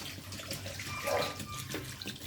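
Broccoli being rinsed under a running tap while brown stew chicken is prepared, a soft, steady splash of flowing water lasting about two seconds.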